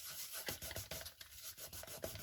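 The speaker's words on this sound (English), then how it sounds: "I do a little scrubbing, and then if I let it set a minute, that seems to be working the best." Paint being scrubbed off a surface with 91% isopropyl alcohol: quiet, rhythmic rubbing strokes, about four of them, close and gentle, with no voices.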